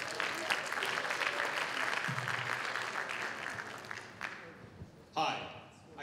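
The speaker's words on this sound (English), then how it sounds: "Give them a round of applause." A crowd applauds steadily for about five seconds, the clapping thinning out toward the end before a short burst of noise.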